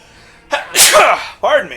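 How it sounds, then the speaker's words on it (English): A man sneezes loudly and close up, with a short wind-up breath bursting into a forceful sneeze and a brief trailing sound after it. "Oh, I'm gonna sneeze."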